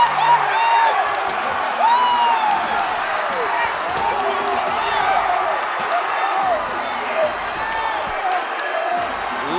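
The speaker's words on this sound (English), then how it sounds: "Listen to this crowd, every single person on their feet for their new AKA lightweight champion" An arena crowd cheers and whoops steadily for a new AKA lightweight champion, a broad roar under loud, excited commentary.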